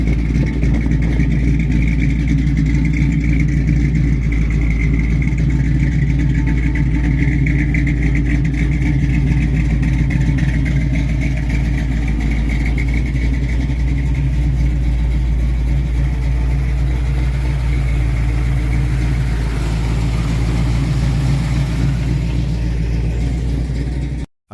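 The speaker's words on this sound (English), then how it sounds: "A classic blue 1965 Ford Mustang Coupe brings early pony car styling with a heavily upgraded V8 setup" A blue 1965 Ford Mustang Coupe with a heavily upgraded V8 runs continuously, its low, steady engine rumble loud and close with no talk over it.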